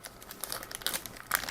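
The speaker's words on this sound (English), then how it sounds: "masks are packed into separate plastic bag together with unpainted PE thread" A plastic bag holding the masks and unpainted photo-etched parts of an Eduard 1/48 model kit crinkles close by in several quick, uneven bursts, with no one talking.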